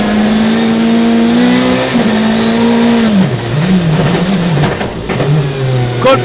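A Hyundai i20 Coupé WRC rally car's engine revs hard and close, its pitch holding high, then dropping sharply with gear changes and downshifts before rising again.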